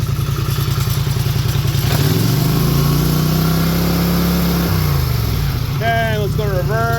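A Polaris Sportsman 850 ATV runs on a repair bench after transmission work, the engine held at a steady mid-pitched clattering run, rising and settling as it shifts into high gear, with a voice briefly speaking near the end.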